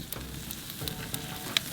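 Butter, garlic and a cheese mixture sizzle on oysters over a hot Kamado Joe grill, a steady close crackle and hiss with small pops throughout.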